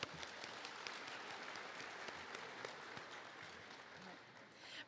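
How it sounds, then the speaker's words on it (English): Applause from the audience at a 4-H closing assembly at Oklahoma State University, a steady wash of many hands clapping that holds evenly for about five seconds at moderate distance. "Let's give them all a round of applause."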